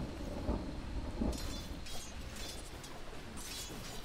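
Disruptor's storm ability in Dota 2 brings low, steady rolling thunder, rumbling faintly and continuously with a couple of slightly stronger swells and some hissing crackle above.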